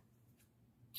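Scissors give a single crisp snip through crochet yarn at the end of a row of houndstooth stitch, short and close after near silence.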